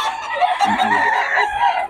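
Roosters crowing and chickens clucking close by, overlapping calls filling a brief moment.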